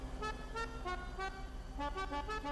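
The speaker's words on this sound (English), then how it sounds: "I can't hear you over the horn" Car horn in GTA V roleplay gameplay, sounding as a rapid series of repeated short toots over a steady engine hum, somewhat faint and continuous throughout.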